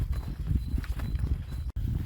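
Horse hooves clip-clop in a steady, busy rhythm at moderate distance, with a brief dropout near the end.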